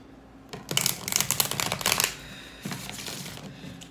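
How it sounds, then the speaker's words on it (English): Tarot cards are shuffled in two quick riffling bursts, a longer flutter followed by a shorter one, close up with no talking. "Shuffling both cards."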